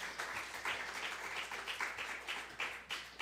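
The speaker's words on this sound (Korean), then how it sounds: "박수 환영합니다." A small group at a worship band gathering claps to welcome back a drummer returning from military service, giving moderately faint, uneven applause in bursts that swell and ease.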